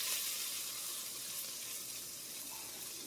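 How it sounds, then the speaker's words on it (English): Garlic and diced jalapeno sizzle steadily in a pan, a close, continuous hissing fry with no talk over it. "That's just the liquid from the garlic cooking off."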